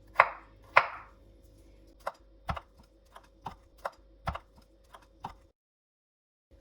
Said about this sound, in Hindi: अभी शिमला मिर्च को भी मैं ऐसे ही काट लूँगी।